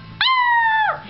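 A beagle puppy lets out one sustained, clear howl lasting nearly a second, loud and close, with a steady tone that slides down at the end.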